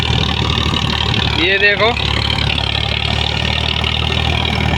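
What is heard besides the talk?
Sonalika tractor engine running during deep ploughing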